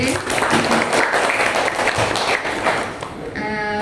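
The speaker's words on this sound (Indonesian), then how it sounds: "kita beri tepuk tangan dulu untuk Dr. Linda SPP." Audience applause following a tuberculosis training-of-trainers talk, a steady dense wash of clapping from a room full of people, fairly loud throughout, with a voice coming in faintly near the end.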